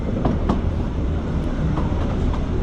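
An old heritage train on the Bala Railway rolls past close by with a steady, loud rumble and irregular clattering wheel clicks, with no voices.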